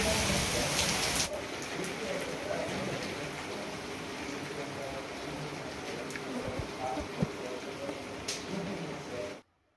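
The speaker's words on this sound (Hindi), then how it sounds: "बारिश हो रही है बाहर" Steady rain falls outside in cold, wet weather, a dense continuous patter that holds level for almost ten seconds before cutting off abruptly.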